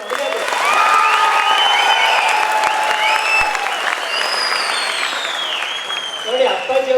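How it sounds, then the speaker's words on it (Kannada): An audience bursts into loud, sustained applause at a speech event, with whistles and scattered cheers rising over the clapping and voices heard amid the ovation. "ಒಂದು ಚಪ್ಪಾಳೆ"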